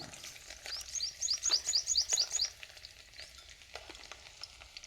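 Chopped garlic frying in hot oil while being stirred, a soft close sizzle with scraping spoon sounds and a bird chirping in a quick series in the background.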